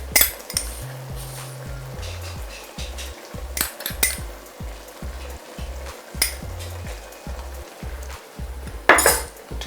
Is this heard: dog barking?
no